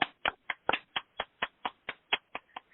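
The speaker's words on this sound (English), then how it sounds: "Did you even hear my clapping in my AirPods?" Twelve or so crisp hand claps in a quick, steady rhythm, close and isolated with nothing else behind them.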